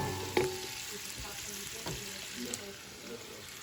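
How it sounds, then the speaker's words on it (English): Spicy sausage, about a pound, browning in a little olive oil in a pan, giving a steady close sizzle with a few stirring clanks and knocks, and a voice speaking over it. "I brown the sausage. It's spicy, about a pound. A little olive oil."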